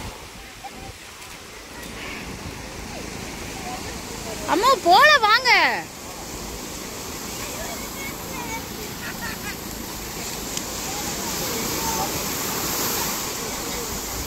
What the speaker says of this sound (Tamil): கடல்.